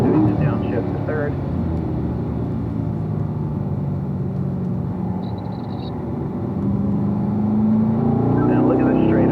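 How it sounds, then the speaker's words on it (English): A race car on a track at Ron Fellows downshifts to third gear while slowing for a turn, its engine note droning and shifting pitch throughout, with a coach's voice talking over it. "Slowing for 3, doing the downshift to 3rd."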